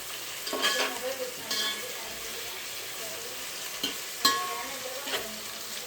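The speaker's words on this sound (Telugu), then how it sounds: "సో ఇక్కడ ఆనియన్ ఫ్రై అవుతుంది" Onion fries in a pan for coconut milk pulao, with a steady low sizzle and occasional sharper pops and stirring scrapes, and no talk.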